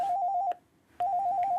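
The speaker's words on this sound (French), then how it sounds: "le téléphone sonne sans arrêt" A telephone rings in two loud, close trilling bursts separated by a brief silent gap, with no talk over it.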